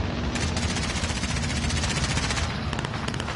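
Sustained automatic gunfire in the Warzone video game, a loud, steady rattle of rapid shots running nearly nonstop, with a fresh burst of closely spaced rounds near the end.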